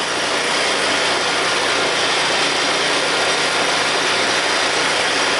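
Exmark riding mower fitted with a Predator 670 V-twin engine drones loud and steady at close range, a constant broadband roar with no pauses.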